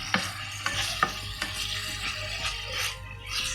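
Chicken tikka pieces coated in masala cooking in a pan over a low flame, with a soft steady sizzle and several sharp clicks of a utensil stirring and scraping near the start, no talking.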